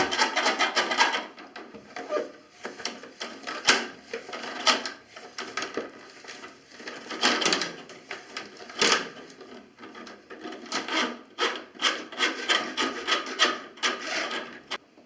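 A drain snake is cranked and turned inside a bathtub drain to loosen a clog, giving repeated scraping, rasping rubs in irregular bursts, close and fairly loud, with no talking.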